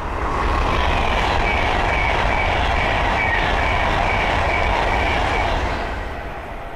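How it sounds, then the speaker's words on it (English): An Avanti West Coast Class 390 Pendolino passes on the West Coast Main Line at Linslade: a loud, steady broadband roar with faint wheel clatter holds close for several seconds before easing slightly at the end. "the next train to pass by is the Adventure West Coast Class 390 Pentalino"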